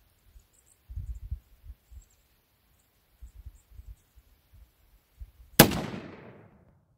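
A single loud rifle gunshot cracks out near the end while sighting in for hunting season, its sharp report trailing into a long decaying echo, after quiet low thumps and rustling handling noises.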